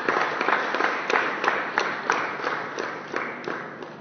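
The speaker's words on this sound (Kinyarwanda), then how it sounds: "Reka dukomere Imana yacu amashyi." Congregation applauding in a church at the close of a service, a dense, steady patter of many hands clapping with a few sharper claps standing out, sustained evenly throughout.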